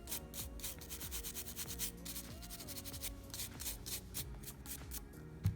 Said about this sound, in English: I'll pump it in the acetone, and I'll just kind of give my nails a nice scrub